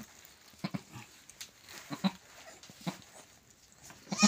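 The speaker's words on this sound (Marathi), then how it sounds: "किती सुंदर बकरे बाय" Goats on a small farm give short, intermittent bleats and scuffles at moderate distance, fairly faint, with a louder burst at the very end.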